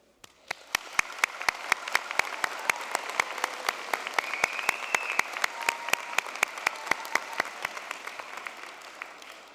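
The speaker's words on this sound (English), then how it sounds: "Graduates, please take a few moments to thank those closest to you with your applause" A graduation ceremony audience claps steadily for several seconds, a dense even wash of applause with occasional sharper individual claps, building quickly and fading at the end.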